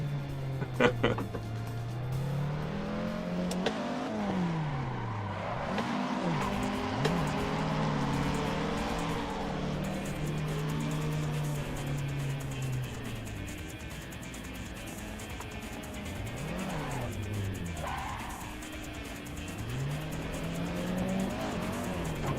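Toyota AE86 driven in the racing game Assetto Corsa: engine revs rising and dropping through gear changes, with tire squeal in the corners, under occasional talk.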